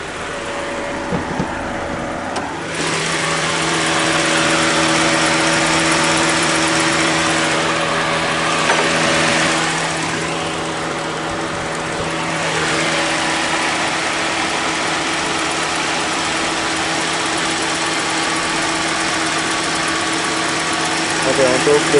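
A 1988 Ford Laser engine idles steadily with a constant low hum and faint mechanical vibration, heard close up over about twenty seconds, with some background noise layered above it.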